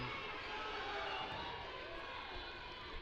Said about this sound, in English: Crowd pumping themselves up